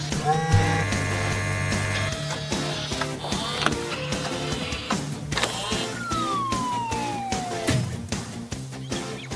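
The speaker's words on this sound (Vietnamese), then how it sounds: "Một xe cảnh sát." A cartoon police car siren wails in a toy-train city scene, a rising and falling tone set against busy background music and effects, moderately loud throughout.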